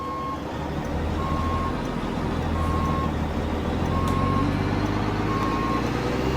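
Steady reversing beeps from a Mack R truck hauling a 1950s Fruehauf tanker in American Truck Simulator, evenly spaced tones repeating over a constant low engine drone and road rumble, with no talking.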